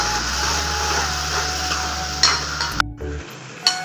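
Onions and spices sauté in oil for a Tamil egg curry, a loud continuous sizzle with a few stirring clinks, which cuts off abruptly near the end before a faint clink.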